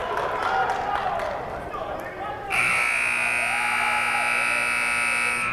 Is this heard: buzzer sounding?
yes